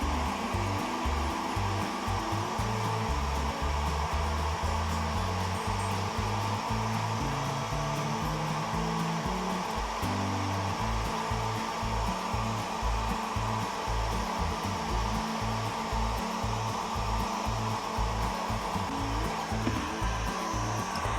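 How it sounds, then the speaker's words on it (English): Heat gun blowing hot air while heating soldered connections on a beginner LED prop, a steady close whooshing roar that continues the whole time with no speech. "Pull out our soldering, our heat gun. Let's go ahead and heat these up,"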